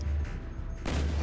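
Call of Duty gunfire fires in two loud, booming bursts separated by a brief quieter gap, close and heavy, with no one talking over the shots.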